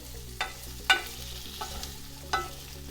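Potatoes frying in a tadka on a gas stove for aloo sabzi, a low sizzle broken by several distinct spatula scrapes and clinks at uneven intervals, close and without speech.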